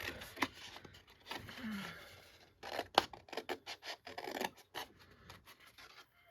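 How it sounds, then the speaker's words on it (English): Paper being cut with scissors while shaping a Christmas envelope gift box: close, uneven snips and scraping rubs arrive in bursts, with short pauses between them. "So I'm going to go ahead and cut up."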